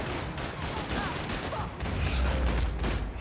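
Rapid enemy gunfire in the Max Payne 3 video game, dense overlapping bursts of shots with mechanical clatter and a low rumble building toward the end, continuous and fairly loud.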